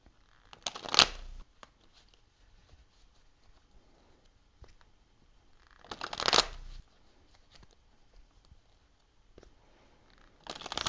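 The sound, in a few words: tarot card deck being shuffled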